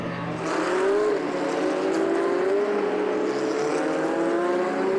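A GT race car at Donington Park during a GT Cup race roars past loudly with a steady high engine note and a slight pitch shift as it goes by, continuous for several seconds.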